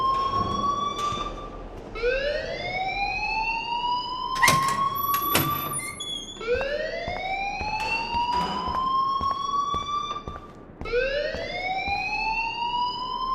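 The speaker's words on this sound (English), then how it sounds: "please turn off that alarm since that's your job" A school alarm in the Life Is Strange video game wails in repeated rising sweeps, loud and continuous, with a few sharp clanks mixed in along the way.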